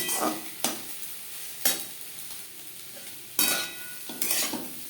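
Eggs being stirred into potatoes frying in a pan, a steady low sizzle broken by several sharp scrapes and knocks of the utensil against the pan, with no voices.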